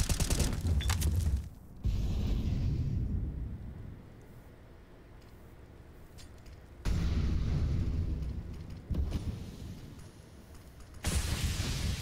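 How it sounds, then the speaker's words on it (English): Gunfire and grenade blasts in a CS:GO match on the Vertigo map, with loud bursts of shooting and booming detonations near the start, around seven seconds and again at the end, separated by quieter stretches. "bullets and nade"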